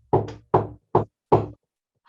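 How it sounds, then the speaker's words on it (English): Four firm knocks on a wooden door, spaced in an uneven rhythm, close and clear with no voices, used as a sound effect in a live storytelling performance of a Japanese folk tale. "and he knocks on the door."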